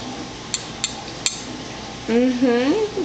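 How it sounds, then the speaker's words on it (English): A child taps cutlery against a plate at a meal, three or four sharp separate clinks spaced apart, followed by a burst of loud babbling voice near the end. "Tip-tapping is not going to get that food on your plate."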